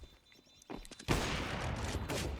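Gunfire in a competitive shooter game during a championship match, a few quiet shots followed by a sudden loud burst of sustained rapid fire.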